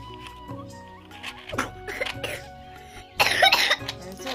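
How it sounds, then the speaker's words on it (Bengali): Someone coughs in short, harsh bursts in a home kitchen during cooking, with a quieter cough early on and a louder, rougher fit near the end, close to the microphone. "কাশি এখন"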